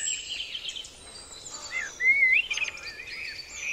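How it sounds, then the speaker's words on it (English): A blackbird sings in a spring dawn chorus, one clear fluty phrase standing out near the middle over a bed of other birdsong. "Blackbird."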